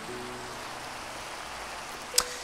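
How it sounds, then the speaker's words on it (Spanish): Steady rain in Minecraft running the SEUS PTGI shader, a continuous soft hiss with a brief sharper tick near the end, heard alone without talk. "Para ver cómo se ve el efecto de la lluvia."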